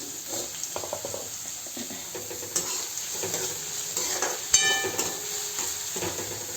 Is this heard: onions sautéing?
yes